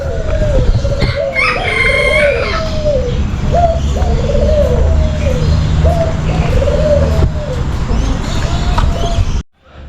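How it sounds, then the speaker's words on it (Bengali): A dense chorus of many free-roaming birds at KL Bird Park in Kuala Lumpur, Malaysia: repeated calls, coos and a rooster-like crow over constant background chatter, loud and close. "এত পাখি খোলা চারদিকে ঘুরে বেড়াচ্ছে চারপাশে"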